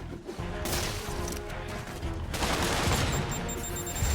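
Homing rockets firing in Marvel's Spider-Man video game, a dense barrage of loud overlapping blasts and bangs with whooshing, continuous and chaotic throughout.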